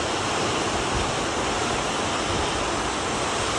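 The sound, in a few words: heavy rain pouring on farm fields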